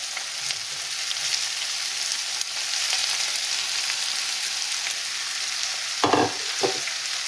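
Chicken roll filling with chopped cabbage stirred in a pan, steady frying sizzle with a few louder scraping clatters of the spoon near the end.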